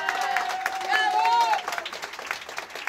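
A crowd claps and cheers at a neighbourhood gas connection celebration in Costa Oeste, Allen, with steady close applause, bright shouts and talk mixed through, swelling briefly in the middle before thinning into scattered claps.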